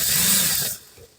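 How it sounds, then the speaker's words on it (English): A power drill runs in reverse against round wire, giving a loud whirring burst that cuts off abruptly and leaves a faint tail. "you could put the drill in reverse"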